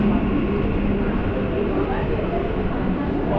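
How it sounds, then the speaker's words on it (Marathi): A Mumbai local train pulls into a station with a loud, steady rumble and rattle that fills the whole stretch, and voices are mixed into the din. "आता ट्रेन आली आहे"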